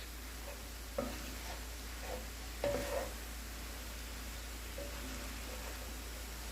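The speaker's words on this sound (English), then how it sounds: "I'm going to cook this until the onions and the jalapenos have softened" Onions and jalapenos cooking in a pan for nachos, a faint soft sizzle with a few utensil clinks and scrapes over a low background hum.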